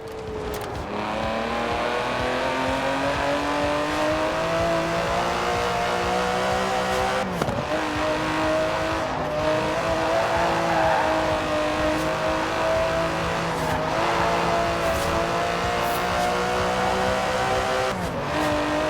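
A 5.2-litre twin-turbo V12 Aston Martin DB11 drives in Forza Horizon 4, its engine a steady, loud drone with pitch shifting as revs rise and fall, plus brief dips in the note near the middle and the end.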